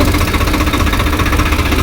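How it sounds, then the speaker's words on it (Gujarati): A freshly started tractor engine runs close and loud, a steady throbbing idle with a rough, vibrating rumble that never changes. "જો ટ્રેક્ટર કરી દીધું સ્ટાર્ટ"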